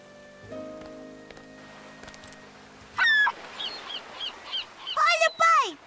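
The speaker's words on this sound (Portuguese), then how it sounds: "Olha, pai! Gaivotas!" Seagulls call at a beach on a rainy day: after a quiet stretch with a few faint tones, a run of loud, sharp squawks comes in bursts, ending in a cluster of shrill, falling cries.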